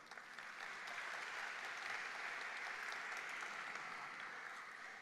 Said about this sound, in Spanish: a quien vamos a recibir, por favor, con fuertes aplausos